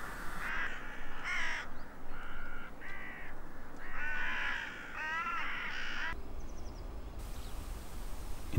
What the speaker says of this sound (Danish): lige samtidig som kragerne begynder at lande på marken